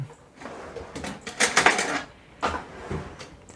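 Someone in a home kitchen fetching a spoon: a drawer or cupboard is handled and metal cutlery clatters in a few close bursts, with quieter pauses between.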